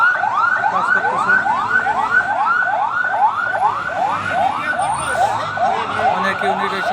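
Fire service vehicle sirens wail at an airport cargo office fire, a loud, continuous rising-and-falling yelp repeating in quick regular sweeps, close and dominant over faint background commotion.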